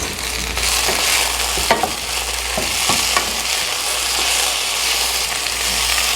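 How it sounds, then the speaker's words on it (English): Potatoes fry in a pan with a steady, close sizzle and occasional stirring scrapes, with no talking. "the potatoes are a little bit brown. It's frying up really nice."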